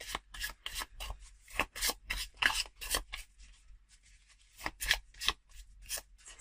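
Cards are shuffled for a tarot-style reading, giving close, papery riffles and rubbing strokes in quick uneven bursts.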